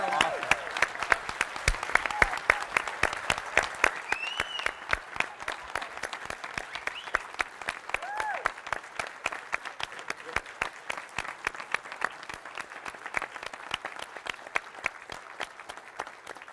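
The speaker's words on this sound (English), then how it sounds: "let's give them another round of applause" Crowd applause following performances by young people at a fitness and sports council meeting, a long steady stretch of many hands clapping, with sharp individual claps standing out and a few faint voices and whoops underneath.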